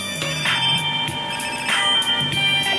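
A phone ringing in GTA San Andreas repeats a bright electronic tone in a steady pattern, loud and close over a faint background.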